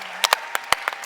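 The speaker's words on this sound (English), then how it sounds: "let's give our cell a big round of applause" Five or six sharp, separate claps in a brief irregular burst, close and clear against a quiet background, sounding like a sparse or added applause effect rather than a crowd.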